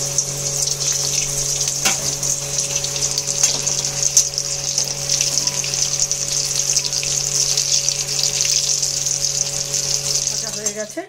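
Moong puli, sweet lentil dumplings for Sankranti, fry in well-heated oil, giving a steady, close sizzling hiss that runs throughout over a faint low electrical hum.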